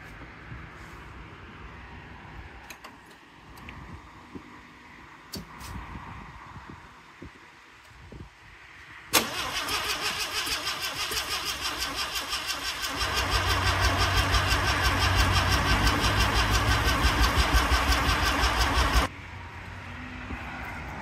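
A two-stroke engine flooded with premix is cranked over and catches, its loud rough buzzing running steadily for about ten seconds and building in low rumble before cutting off abruptly.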